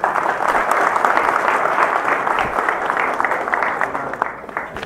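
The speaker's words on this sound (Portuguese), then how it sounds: "Salva de palmas aí." Sustained applause from an audience at a Brazilian business and city-administration lecture, a dense, steady wash of many hands clapping that thins slightly toward the end.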